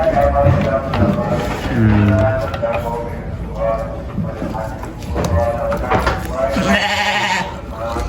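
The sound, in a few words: sheep bleating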